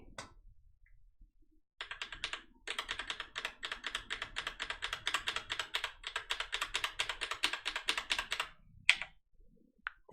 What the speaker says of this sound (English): Typing is the hardest part of this, isn't it?